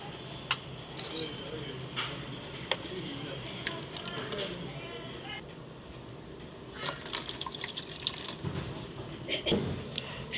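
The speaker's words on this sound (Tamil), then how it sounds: "இப்போ ஸ்விம்மிங் பூலில் வேறு தண்ணி வேறு நப்பணும்" Water runs into a toy swimming pool in a Barbie play setup, a steady splashing pour with intermittent spattering bursts, while people talk over it.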